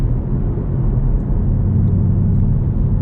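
A 2020 Ford Mustang GT with the 5.0 V8 at part throttle, heard as a loud, steady low rumble throughout with no speech.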